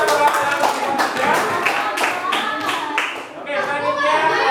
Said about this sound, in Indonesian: tepuk tangan dulu sama lampu ya